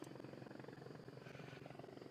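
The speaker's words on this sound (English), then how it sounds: "So there's a helicopter over there." A helicopter drones steadily in the distance, its low rotor throb continuous and fairly faint.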